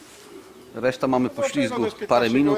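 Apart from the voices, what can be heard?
racing pigeons arriving at the loft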